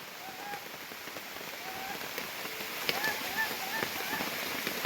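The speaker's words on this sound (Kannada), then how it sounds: "ಮಳೆ ಹನಿ ಗುರು, ಕಾಣಿಸ್ತಾ ಇಲ್ಲ ಸರಿಗೆ." Rain falls in forest near a treehouse camp, a soft constant patter spread evenly across the scene, fairly faint and distant, with scattered brief chirps on top.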